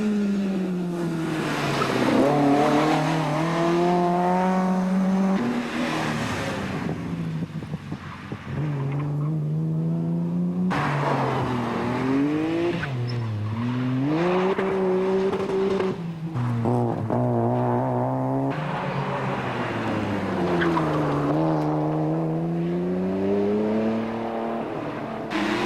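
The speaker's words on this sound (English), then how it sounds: "The sounds of screaming engines and tortured tyres an annual hiccup in the otherwise tranquil" Rally cars on a Targa Tasmania stage roar past with screaming engines rising and falling through gear changes, loud and continuous, with tyres squealing through the corners.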